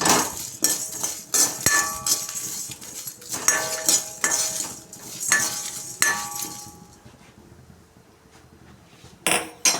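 Coriander seeds are dry roasted in a pan for curry leaf dry chicken, with close, bright metallic clinks and scrapes of a spoon stirring in bursts, then a quieter pause before a final few clinks.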